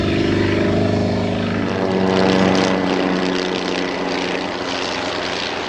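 A propeller aircraft engine drones loudly and steadily at the Farnborough Airshow 2002, its pitch wavering slightly as the plane maneuvers close by, hovering almost like a helicopter.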